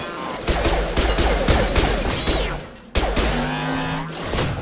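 Rapid bursts of gunfire from shooting a robot in Mass Effect, loud and dense, with a brief break midway and a faint electronic tone underneath.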